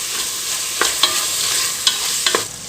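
Carrots and green peas being mixed in a hot pan for a kids' lunch box dish, a gentle sizzle under a handful of sharp spoon scrapes and taps against the pan, close and clear, without talk.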